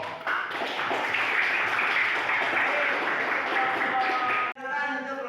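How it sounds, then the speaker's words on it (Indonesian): Applause for a student group in a junior high school classroom: a dense, steady wash of clapping that holds for several seconds at full loudness, then cuts off sharply near the end. "tepuk tangan untuk kelompok"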